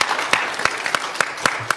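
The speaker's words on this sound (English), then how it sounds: "Please give them another big round of applause." Audience at an urban transformation symposium applauding, a steady wash of many hands clapping with sharper individual claps standing out, moderately loud and continuous, with no speech over it.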